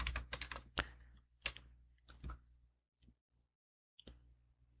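Typing on a computer keyboard while setting up a Laravel 11 and Vue 3 project, with bursts of close, crisp keystrokes followed by a few scattered taps and pauses; no talking.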